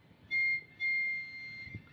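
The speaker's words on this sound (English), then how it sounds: "All right, Summer, let's blow the whistle and let's hear it." A shrill whistle is blown twice, a short blast followed by a longer one, clear and fairly close over a quiet background.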